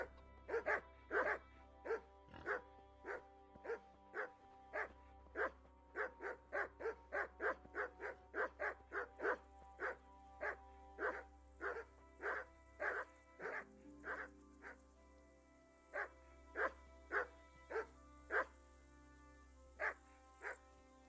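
Dogs bark in the medieval game Kingdom Come: Deliverance, a long, steady run of sharp, evenly spaced barks that repeat almost rhythmically for about twenty seconds over a low background hum, with a brief pause near the middle.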